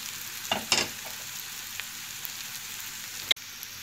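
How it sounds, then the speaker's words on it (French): Apples frying in melted butter in a pan give a steady soft sizzle, with a few brief stirring knocks and clacks near the start and one sharp clink later, no talking. "Je commence par faire fondre mon beurre. Ensuite, je rajoute mes pommes."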